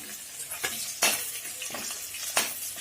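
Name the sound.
frying onion and garlic in oil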